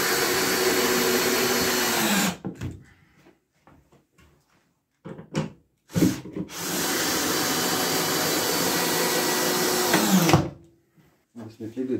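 Power drill driving screws into a workbench top in a workshop, two long loud runs of whirring motor separated by quiet gaps with small knocks and handling sounds.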